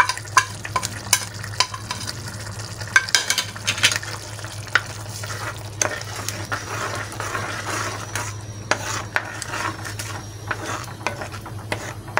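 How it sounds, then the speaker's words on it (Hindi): Pizza sauce with crushed black pepper simmers in a pan while a spoon stirs it steadily, giving a soft continuous sizzle and bubbling with scraping clicks, close and alone with no talk. "इसको और थोड़ा सा पका के गाढ़ा करना है"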